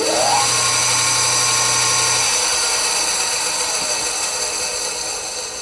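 A Vevor stainless steel electric bone saw starts up with a brief rising whir, then runs at a steady, loud motor hum and blade whine, alone and continuous to the end.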